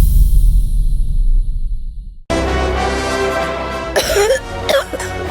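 A person coughs deliberately as a signal, a sharp burst of coughing breaking in after a low rumbling stretch, followed by voices and an indoor domestic bustle in a Kannada TV serial scene.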